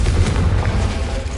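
A Confringo blasting spell going off in Hogwarts Legacy, a loud, deep booming blast with a heavy low rumble that fills the whole moment, no talk over it.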